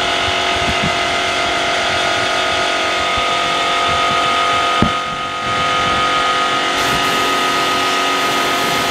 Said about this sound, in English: we're using a Blackridge 180 litre direct drive straight to this as well